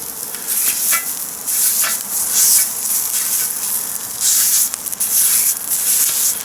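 Italian sausage sizzles and crackles in a frying pan, a steady close hiss with bursts of spattering.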